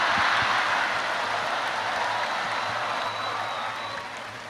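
Audience applause at an Indonesian political gathering, a dense wash of clapping that stays steady and fairly loud, then thins slightly toward the end, with no talk over it.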